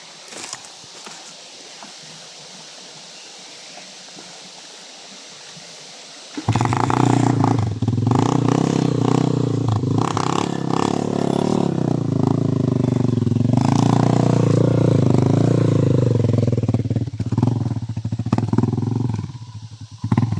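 A motorcycle hauling a load is heard, quiet clatter and footsteps first, then the engine bursts in loud and close, straining and revving hard for a sustained stretch before easing slightly near the end.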